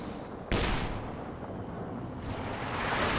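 A mortar half-track fires in a strategy war game, a sharp blast near the start followed by a rumbling, sustained roar that swells again toward the end.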